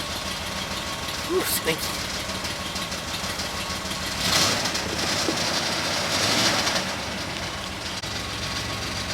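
Small block Chevy engine idling steadily after an oil pan gasket repair, a continuous rumbling hum with slight swells, while a person says a few words over it.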